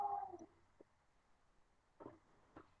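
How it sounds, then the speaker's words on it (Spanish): A female house cat makes a few short, soft meows and chirping vocal sounds, spaced irregularly over a quiet indoor background, with no talking. "¿Qué le pasa a la gata?"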